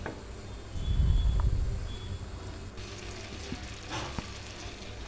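A tomato and egg curry mixture fries in a pan with a steady broadband sizzle, briefly swelling louder near the start, with light stirring scrapes and small clicks toward the end.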